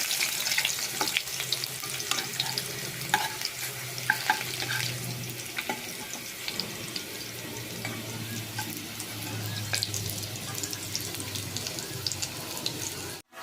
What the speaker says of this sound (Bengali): তো আলুটা ভেজে আগে তুলে রাখি